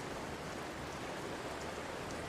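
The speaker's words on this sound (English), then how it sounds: "It's raining." Steady, soft rain falling in the game Tower of Fantasy, a constant even hiss of drops with no pauses and no voices.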